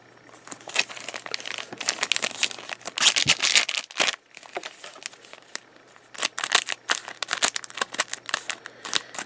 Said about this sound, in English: these scissors do tend to wear out a little bit towards the end of these, double pack longer openings